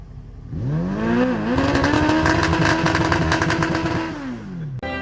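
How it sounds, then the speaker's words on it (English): Catless Dodge Charger with a 5.7 V8 revving hard nearby, rising to a sustained loud raspy roar, holding, then dropping off before a sharp click at the end. "Rev it! Rev it!"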